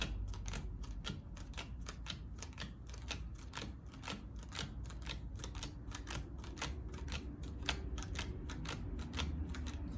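Playing cards being quickly counted and dealt down onto a pile, a steady run of crisp, rapid, evenly spaced snaps and taps, quiet and close with no talk.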